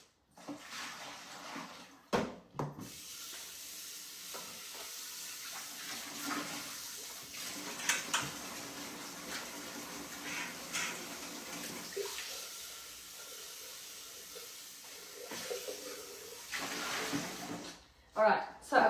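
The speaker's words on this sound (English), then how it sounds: "so I've just given it a rinse" Water runs and splashes while a Thermomix TM7 mixing bowl is rinsed out at a kitchen sink after a pre-clean, with a steady tap flow broken by brief knocks and clatters.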